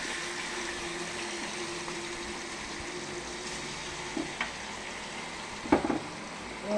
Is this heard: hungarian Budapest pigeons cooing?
no